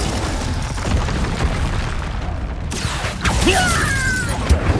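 A Confringo spell explosion in the Hogwarts Legacy game bursts amid a flurry of combat, with rumbling booms, mechanical creaks and a few pops thick in the mix, followed by bright whistling spell effects.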